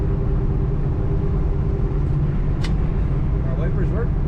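A 1970 Chevrolet Nova two-door sedan engine idles steadily with a low, constant rumble throughout, close and continuous, with faint background noises over it.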